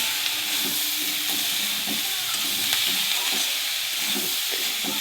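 Spring onion stalks sauté with salt and turmeric in a pan, giving off a constant, fairly loud sizzling hiss. Soft, regular stirring scrapes sound underneath, with no voices.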